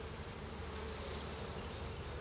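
Honey bees swarm and buzz densely at an open hive, a continuous, close, even drone of many wings filling the air without any talking.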